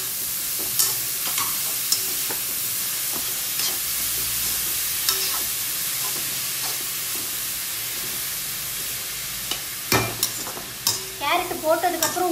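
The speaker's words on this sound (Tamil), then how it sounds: "இப்போ துருவன கேரட்டை போட்டுடலாம்." Grated carrot fries in a pan with softened onion for carrot poriyal: a low steady sizzle broken by scattered scrapes and stirring taps, with a louder clatter near the end, no voices.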